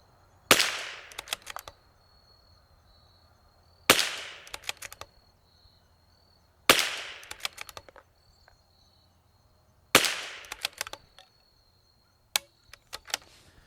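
A bolt-action rifle fitted with a drop-in barrel fires four sharp shots on a range, each crack followed by a brief echo, spaced about three seconds apart, with a few faint clicks after the last.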